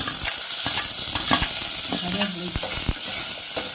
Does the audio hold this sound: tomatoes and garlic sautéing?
yes